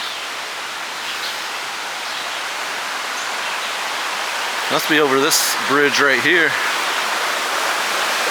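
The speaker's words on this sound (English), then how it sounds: "I'm hearing some water run over here." A small stream runs beneath a bridge below a full Lake Taneycomo near the Table Rock Lake dam, giving a steady, hissing wash of water throughout, with someone talking briefly partway through.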